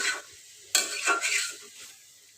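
Boal fish sautéing in a pan with spices, a short burst of sizzle and scraping stirs against the pan that fades out quickly.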